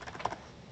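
A short burst of typing on a computer keyboard: a few quick, faint key clicks close by.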